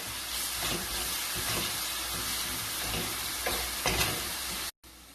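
Shrimp and glass noodles in hoisin sauce with white pepper sizzling steadily in a hot pan, with a few soft scraping stirs along the way, close and continuous, ending in a brief cut to silence.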